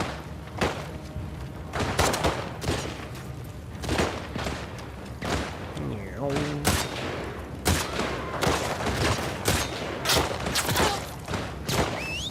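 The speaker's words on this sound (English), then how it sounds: "Throwing little pistols at people. Pistol bullets." Pistol gunfire in The Last of Us Part II: a rapid fusillade of sharp, loud shots and thuds repeats in bursts over about twelve seconds, with brief gaps between volleys.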